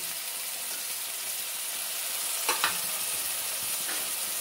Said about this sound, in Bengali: বেগুনটা আগে ভেজে তুলে নেব